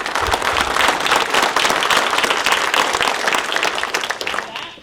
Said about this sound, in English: we want to give a big round of applause to each of our panelists